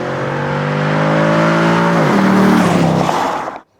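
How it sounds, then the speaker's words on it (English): A 2010 Dodge Challenger SRT8 Hemi V8 roars loudly up close, its deep tone rising and shifting pitch as it accelerates, then dropping away to silence. "when you're behind the wheel and hear the Hemi roar"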